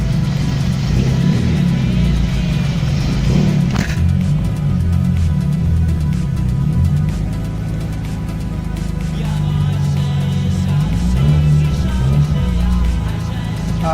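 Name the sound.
car engine running and revving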